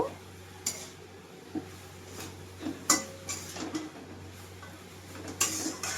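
Gourd greens with shrimp are stirred in a pan, with intermittent metallic clinks and scrapes of a spatula over a quiet steady background, a few sharper knocks spaced out.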